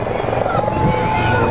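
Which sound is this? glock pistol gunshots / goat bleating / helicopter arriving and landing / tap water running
helicopter arriving and landing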